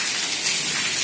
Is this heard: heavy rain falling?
yes